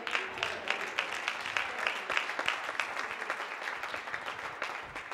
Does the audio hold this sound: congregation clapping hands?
yes